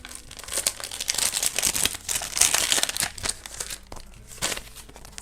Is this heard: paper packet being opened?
yes